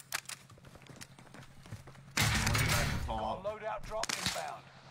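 Call of Duty gunfire in an online match: a few scattered shots, then a loud burst of rapid fire and impacts, with a player's voice talking over it.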